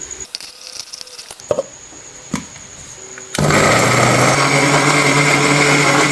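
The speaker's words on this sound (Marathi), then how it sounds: "आता मिक्स करत्या भांड्यात टाकून घेते आणि बिंगून घेते" After a few quiet clicks and knocks, a kitchen mixer grinder starts up and runs loud and steady, whirring as it grinds onion, garlic, tomato and green chili into a paste without water.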